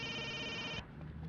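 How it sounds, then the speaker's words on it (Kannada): A telephone rings with a steady electronic trilling tone for just under a second, then cuts off, leaving quiet room sound behind. "ಯಾರ್ದು ಫೋನು?"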